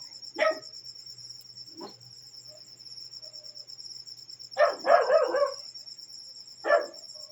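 A dog barks in short, separate bursts, one or two at a time and then a quick flurry, over a steady high chorus of chirping crickets.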